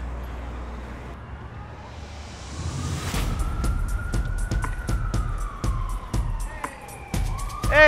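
An ambulance siren's wailing tone rises in from about halfway through, sliding slowly in pitch over steady New York street and traffic noise, fairly close and growing louder.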